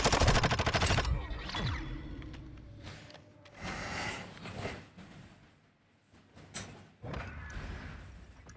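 Slug shotgun blasts go off in a first-person shooter game, a heavy opening burst followed by scattered sharp booms and clanks spread across several seconds, close and loud with gaps of quieter game noise between them.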